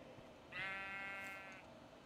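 Sheep in the video game Minecraft gives a single clear bleat lasting about a second, a steady wavering tone heard alone against a quiet background.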